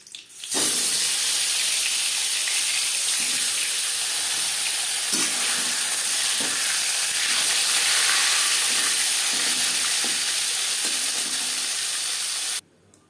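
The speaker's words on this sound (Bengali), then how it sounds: "মাছ ভেজে নেওয়া কড়াইতে তেল দিয়েছি ফোনে দিয়ে দিলাম পাঁচফোড়ন" Panch phoron spice seeds crackle and sizzle in hot oil in a kadai already used for frying bata fish, a loud, steady hiss running throughout with faint scattered pops, cutting off abruptly near the end.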